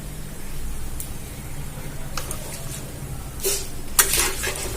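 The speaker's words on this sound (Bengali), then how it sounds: "দেখুন এভাবে ভেজে নিলে চিড়াটা খুব মুচমুচে হয়" Flattened rice deep-frying in oil over a low gas flame, a soft continuous sizzle broken by a few sharp scrapes and clinks of a metal strainer against the pan, close and without speech.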